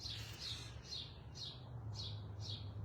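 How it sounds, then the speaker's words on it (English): A single bird chirps in a steady, evenly spaced series of high, quick notes, faint and distant over a low background hum. "there's this bird that's chirping"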